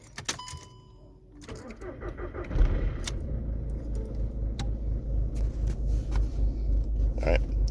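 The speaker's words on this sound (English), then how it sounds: "But when I turn on the car," A Volkswagen Polo starts up: faint clicks are followed by the engine catching and then a low, even rumble of idling close by.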